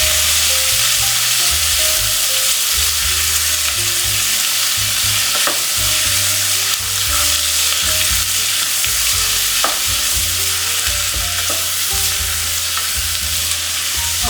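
Spicy chili paste and kimchi fry in a hot pot for a Korean-style borscht, with loud, continuous sizzling and crackling close up and occasional stirring scrapes throughout.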